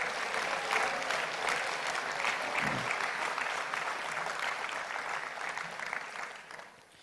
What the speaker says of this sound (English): If we can get a round of applause for these guys.